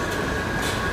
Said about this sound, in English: We're here at the metro again.